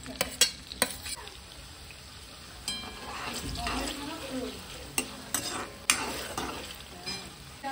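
Finely chopped onion frying in a mix of oil and butter in a pan, a soft sizzle broken by sharp clinks and scrapes of a utensil against the metal pan.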